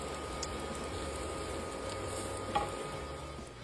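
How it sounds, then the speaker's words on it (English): Soft stirring and scraping of onions into a flour mixture in a pan, with a low steady sizzle underneath and one brief clink partway through. "Stir the onions into the flour mixture."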